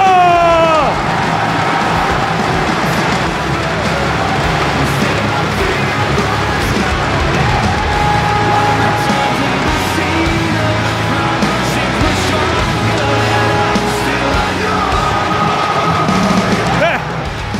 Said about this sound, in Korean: 여러분 다시 한번 큰 박수 받으십시오.